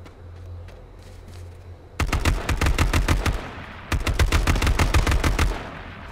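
Automatic gunfire in the video game H1Z1, two loud close bursts of rapid shots, each lasting about two seconds with a short pause between them.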